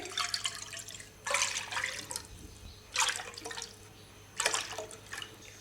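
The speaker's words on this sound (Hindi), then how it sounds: "चार कप दूध देगची में ऐड करेंगे।" Four cups of milk poured into a cooking pot for fruit custard, heard as several separate splashing pours in bursts with quiet pauses between them, close and moderately loud.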